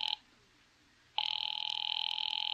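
A telephone rings at a police department, a short electronic burst followed by a pause and then a longer steady trilling ring, close and clear with no voices.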